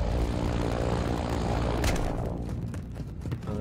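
A helicopter in a video game, a loud continuous engine and rotor drone that holds steady for a few seconds and then eases slightly, heard alone.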